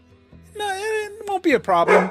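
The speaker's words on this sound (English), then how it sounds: "We have a built-in excuse for any barking." A dog yips and barks in a couple of short bursts at close range, mixed in with a person talking over it.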